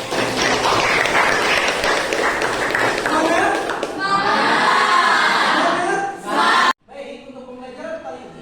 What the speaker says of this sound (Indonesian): Jadi tepuk tangan dulu untuk kalian.